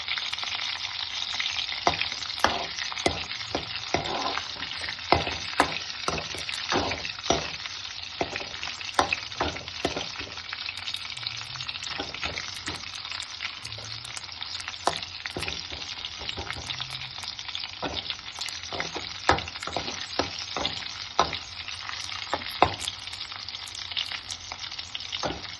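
Onions sizzle and crackle in hot oil with dried red chillies, a steady close frying hiss with occasional stirring clicks and no voices.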